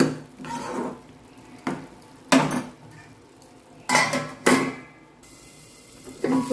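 A pot of vegetarian taro stalk curry being handled with a lid: several sharp metallic clanks and scrapes of metal on metal, spaced irregularly, close by against a faint background with no talk.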